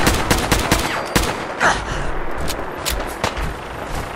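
Rapid gunfire in the video game Fallout 4, dense bursts of loud shots and sharp cracks firing in quick succession throughout, like a heated firefight.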